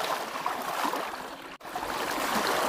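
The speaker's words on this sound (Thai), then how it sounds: "น้ำไหลแรงมาก" Floodwater rushing strongly through a flooded village during the October 2022 floods, a steady broadband watery wash close by with a brief dropout near the middle.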